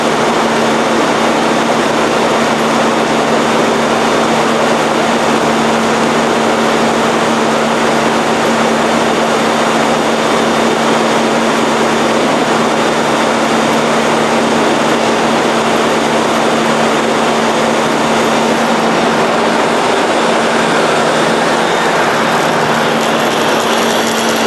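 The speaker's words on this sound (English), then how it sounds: "It's just this machine has the ability to run very slow." An M204H machine working on ceramic runs very slowly, giving a loud, unbroken mechanical drone with a steady hum and constant grinding noise throughout, with no pauses or changes.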